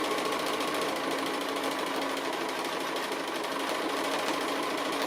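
A sewing machine stitches an appliqué with a steady, fast, close whirring and rapid needle clatter that holds unchanged throughout, with no voices.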